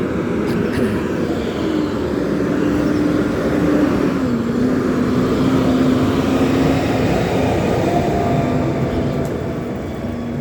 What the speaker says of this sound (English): No, it's a cement truck, of course